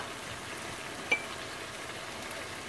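Chicken and spinach frying with cumin and coriander powder, a steady, even sizzle throughout with one brief tap near the middle.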